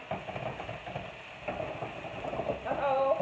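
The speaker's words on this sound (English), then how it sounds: "shake them up a little bit, and I'm stirring up my veggies over here to go in my spaghetti" Noodles and vegetables for a vegan spaghetti are stirred in a hot pan. A close, continuous sizzle carries irregular scraping and clattering strokes, with no talk.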